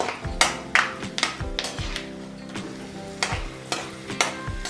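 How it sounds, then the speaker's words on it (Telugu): Peanuts frying in a pan on a low-to-medium flame, with repeated scraping strokes of a spoon stirring them over a steady background sizzle, close and moderately loud, no voices. "పల్లీలు వేగేంత వరకు సిమ్లో పెట్టి కలిపి"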